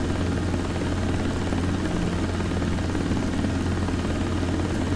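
Helicopter in a desktop flight simulator game, climbing to altitude in cruise flight: a steady, continuous rotor and engine drone with a low pulsing hum, loud and unbroken throughout, with no voices.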